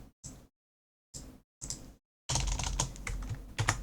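Computer keyboard typing while writing code: a few short bursts of keystrokes separated by pauses, then a denser, louder run of rapid clicking, close and clear with no talk.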